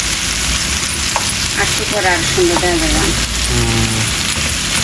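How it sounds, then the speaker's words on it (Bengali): Bitter gourd fries with beef in a pan, a steady close sizzle and crackle, while a person talks over it. "এই আমাদের করলা ভাজি হইতে আছে হ্যাঁ।"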